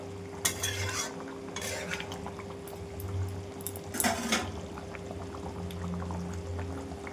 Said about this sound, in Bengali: এবার একটু ভালোভাবে নাড়িয়ে একটু ফুটিয়ে নামিয়ে দেবো।